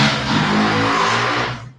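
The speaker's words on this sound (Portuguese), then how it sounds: "Tem uma moto aqui dentro da minha casa." A motorcycle engine revs loudly inside a house, a single sustained rev that holds and then drops off abruptly, heard close up.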